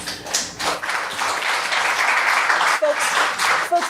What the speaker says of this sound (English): I'd appreciate it if you would hold your applause.